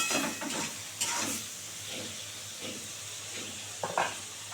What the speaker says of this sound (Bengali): এবার বেগুনগুলো খুব সুন্দর করে ভেজে নেবো